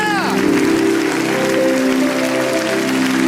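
A church congregation applauds and cheers loudly at a worship service, a dense roar of clapping and voices under a preacher's amplified shouting.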